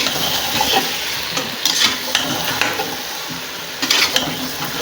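A spoon stirs potatoes and capsicum for pav bhaji in a pan, giving scraping clatters and a few sharp knocks over a constant sizzle, with no talk.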